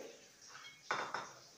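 A lid is set on a cooking vessel for steaming katla fish: two quick metallic clinks close together, faint and near, in an otherwise quiet kitchen.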